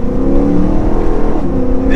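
A BMW M3 Competition E92 accelerating, its engine giving a loud, steady low drone that rises slightly in pitch, heard from inside the car for about two seconds.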